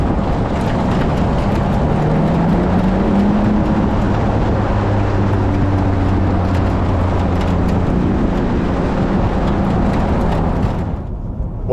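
A Porsche 911 GTS of the 992.2 generation drives in Sport Plus mode, its engine drone steady and loud from inside the cabin, with rising and falling tonal bands and a constant road and wind rush that fades abruptly near the end.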